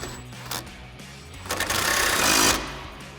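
An impact wrench fitted with a 17mm socket and extension rattles a bolt tight while a HD tire carrier is mounted on a Jeep Wrangler JK: a short burst, then a loud, sustained buzzing hammer of about a second.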